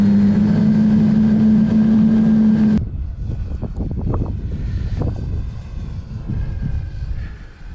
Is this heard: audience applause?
no